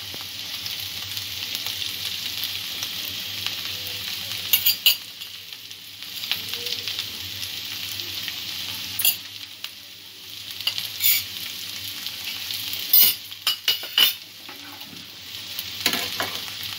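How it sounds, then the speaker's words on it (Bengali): Ingredients for carrot pulao, including dry-roasted spices, are stirred in a frying pan, with a steady close sizzle and hiss and repeated scraping strokes of the spatula, no voices. "সব উপকরণগুলো ভালো করে মিক্স করে নেব।"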